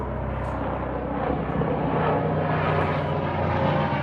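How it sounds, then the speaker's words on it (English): A helicopter passes overhead outdoors, a broad steady engine and rotor rumble that swells slightly as it goes by, fairly loud and continuous with no voices. "there's a helicopter coming by"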